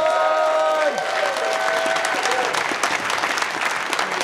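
At Nerdtacular 2017 in the main hall, a live audience gives a big round of applause. Loud, dense clapping with some cheering continues for the whole stretch, while a held musical tone fades out near the start.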